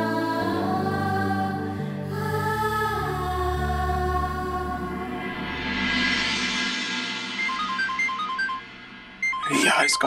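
A mobile phone ringtone plays as a melodic, tonal tune that shifts pitch over several seconds, ending in a brighter burst of tones.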